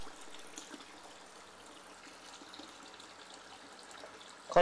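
Aquarium water drains out during a water change, a soft, steady trickle and flow held at low level throughout, ending in a brief louder splash.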